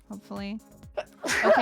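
A sneeze bursts out loud and close near the end, following a few spoken words from someone during a PC mystery game session.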